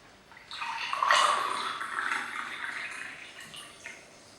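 Water pours steadily into a glass, a close, bright splashing stream that swells after a quiet start and then tapers off over a few seconds.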